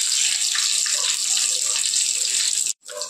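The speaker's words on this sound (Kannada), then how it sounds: "ಆಮೇಲೆ ಕರಿಬೇವು ಹಾಕೋಬೇಕು, ಚಟ್ಪಟ್." Curry leaves crackle and sputter in hot oil during tempering for a roti seasoning, a dense steady sizzle with fine pops that cuts out briefly near the end and then resumes more softly.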